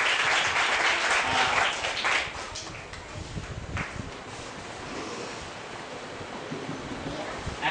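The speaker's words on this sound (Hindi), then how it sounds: "सब लोग ताली बजाओ।" An audience at a gospel rally claps in applause, a dense, loud patter of many hands that tapers off into scattered clapping and faint rustle.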